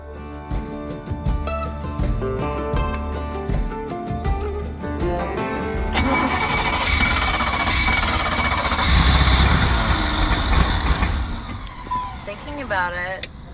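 An old Sea Ray boat engine idling roughly after a carburetor repair, its loud mechanical drone stumbling and surging as the RPMs bounce, heard steadily at close range with strong whining overtones.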